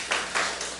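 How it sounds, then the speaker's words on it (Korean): Congregational applause of congratulation during a church service, short bursts of clapping swelling and fading in a few waves, moderately loud and close, with no talk over it. "축하의 박수 드리겠습니다."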